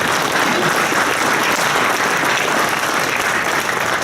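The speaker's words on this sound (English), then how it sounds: "So give those guys a round of applause." Audience applause at NVIDIA's CES 2014 press conference, a dense, loud, sustained roar of many hands clapping filling a large hall, unbroken and without talk.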